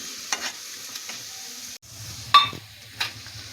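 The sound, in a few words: frying and stirring red amaranth leaves (lal shaak)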